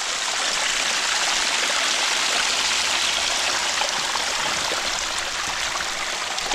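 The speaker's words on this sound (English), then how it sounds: "Nice little waterfall here." A small woodland waterfall splashes into a stream, making a steady, close, full-bodied rush of falling water with bright hiss, uninterrupted and without voices.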